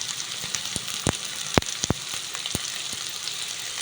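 Onions frying in a pan for masala dosa filling, a soft steady sizzle broken by scattered sharp pops and crackles, fairly quiet and close, with no talking.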